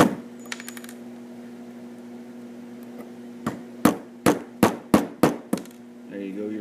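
A metal punch is hammered to drive the cross pin out of a Remington 700 rifle bolt, six sharp, evenly spaced taps ringing out close and loud after a quiet pause.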